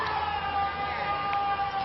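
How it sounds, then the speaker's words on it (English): A construction drill whines steadily in the background, a continuous high tonal drone that sounds much like a distant siren, with faint voices present throughout. "No, that's the drill. Construction. Yeah, the drill from the construction."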